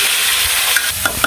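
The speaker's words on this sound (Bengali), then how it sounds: "আলুগুলো একটু ভেজে নিয়ে আলুগুলো লাল লাল করে ভাজলাম" Chunks of potato sizzle steadily in hot oil in a pan, with a constant bright hiss and a few small pops and scrapes near the end.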